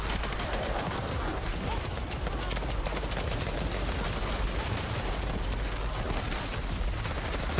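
Rapid bursts of enemy fire in The First Descendant, icicle projectiles shot in a steady dense crackle that runs the whole time at an even, fairly loud level, with no pause.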